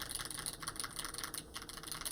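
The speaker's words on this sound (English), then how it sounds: "alpha keys sound really good" Rapid typing on the alpha keys of a stock, unmodded Hall effect keyboard: quick, even clacky keystrokes in a steady stream, close and fairly quiet, with no talking.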